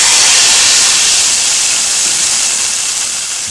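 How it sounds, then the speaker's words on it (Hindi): Cumin seeds sizzling in hot oil for kadhi, a loud, steady bright hiss with no break that fades slightly toward the end. "अब हम इसमें ज़ीरा डालेंगे। ज़ीरा को हल्का ब्राउन करना है।"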